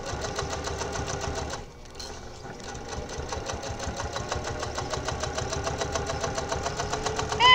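A sewing machine stitches an old placemat into a clutch, its needle thumping in a fast, even rhythm, close and clear, with a brief pause near the start before the steady running resumes.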